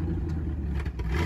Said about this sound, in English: This carburetor runs bad. I don't even want to idle.